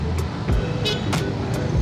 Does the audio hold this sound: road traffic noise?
yes